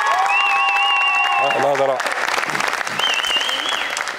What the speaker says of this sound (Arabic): عطوني تصفيقة كبيرة على محمد بوليفا